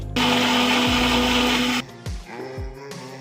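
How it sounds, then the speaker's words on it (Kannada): A mixer grinder blends guava with mint, honey and water, whirring loudly for under two seconds before cutting off and spinning down, followed by a few clunks of the jar and lid. "ಈಗ ಇದನ್ನು ಮಿಕ್ಸಿ ಮಾಡ್ಕೊಬರ್ತೀನಿ"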